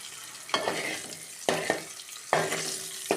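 Eggs fry in coconut oil seasoned with turmeric and salt for an egg masala, a loud close sizzle that surges in sharp bursts as the pieces are cut and turned in the pan, several distinct flares over a few seconds, no voices.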